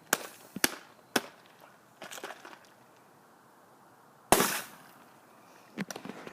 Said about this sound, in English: it's forcing the lid to pop off and have